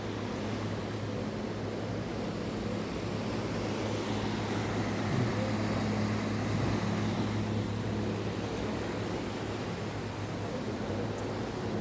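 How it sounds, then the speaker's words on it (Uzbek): A ferry's motor runs steadily on a crossing from Denmark to Sweden, a constant low engine hum under broad churning water and wind noise, even and unbroken throughout with no talking. "Mana motor ishlayapti bu yerda."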